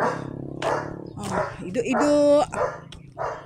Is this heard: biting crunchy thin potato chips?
no